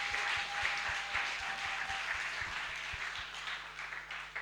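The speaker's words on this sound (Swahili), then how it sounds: "let's clap for this one." A church congregation applauds during a sermon, giving a few seconds of steady, moderately distant clapping from many hands with no speech over it.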